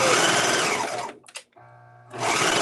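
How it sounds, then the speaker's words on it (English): Serger sewing woven fabric, a fast buzzing run that cuts out into a short quiet gap with a low hum and clicks, then starts up again near and loud. "it's not even feeding through the bloody serger"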